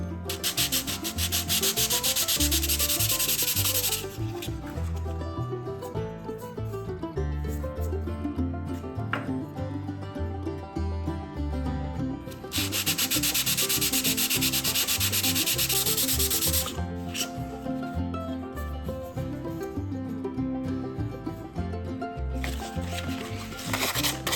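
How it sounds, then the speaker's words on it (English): Sandpaper at 150 and then 400 grit rubs over the wooden scales of a restored knife in steady back-and-forth strokes, with loud bursts of fast sanding between quieter passes and no voices. "To clean up the wood scales, I'll start with 150 grit sandpaper, then finish with 400 grit to give it some smoothness."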